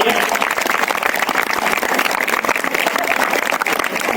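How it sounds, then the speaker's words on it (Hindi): An audience at an Independence Day celebration applauds after a Chhattisgarhi folk and patriotic dance, thick continuous clapping from many hands, loud and close, with little else heard. "तालियां बजनी चाहिए।"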